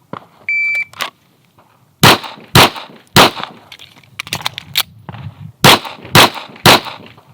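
A shot timer beeps, then a pistol fires a quick string of sharp, loud shots in a shooting drill. There is a short gap for a reload partway through, and the last rapid shots come in a tight cluster.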